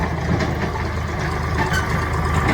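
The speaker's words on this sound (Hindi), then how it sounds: "मशीन से ये जाता हुआ ट्रैक्टर" A tractor drives past on a village lane, its engine a steady, close rumble that holds for the whole stretch with no voices over it.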